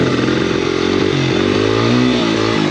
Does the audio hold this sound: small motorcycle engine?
yes